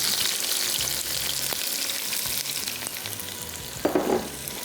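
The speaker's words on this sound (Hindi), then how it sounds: "और प्याज को किया फ्राई।" Sliced onions frying in a pan for dal makhani, a steady close sizzle and crackle throughout with a brief louder burst of spitting near the end.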